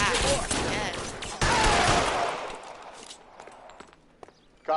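A dense, loud fusillade of gunshots blasts through an L.A. Noire shootout, then thins into scattered cracks and fades, with one last sharp burst at the end.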